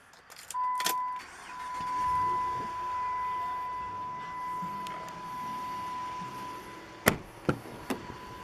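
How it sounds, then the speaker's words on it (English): Power rear sliding window on a 2006 Dodge Ram Mega Cab Laramie pickup: a quiet, steady electric motor whine running for several seconds, followed by a few sharp clicks and knocks as it stops. "It also has the power rear sliding window"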